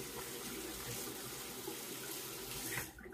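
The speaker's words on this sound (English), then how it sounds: "Let me wet the razor now." Tap water running steadily at a sink to wet a Gillette Short Handle Super Adjustable safety razor, a continuous close gushing stream that cuts off at the end.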